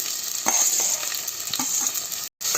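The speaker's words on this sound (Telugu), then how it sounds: "ఆనియన్స్ పచ్చిమిర్చి వేసుకుంటున్నాము" Onions and green chilies sizzle steadily in hot oil while being cooking for a chicken pulusu, with a few spoon scrapes and stirring clatters over a bright continuous hiss; there is a brief dropout near the end.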